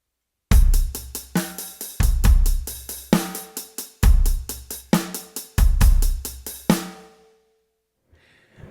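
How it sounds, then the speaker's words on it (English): Drum groove by a beginner drummer with the hi-hat struck too hard, a loud, busy pattern of dense cymbal hits over kick and snare in repeated bars, ending abruptly with a short ringing tail and a faint noise. "The second mistake is hitting the hi-hat too hard."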